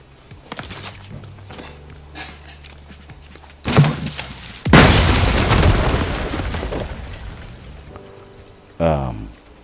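Boom barrel launcher explosions in a video game, a heavy blast followed by a second louder booming burst with a long rumbling tail, then a sharp final hit; a voice talks briefly before.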